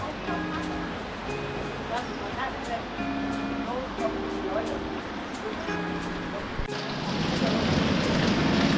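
Rain falling on a balcony, a steady hiss of drops that swells into a heavier downpour near the end, heard beneath musical tones and background sounds.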